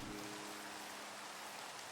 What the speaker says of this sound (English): let me make sure this rain isn't too loud.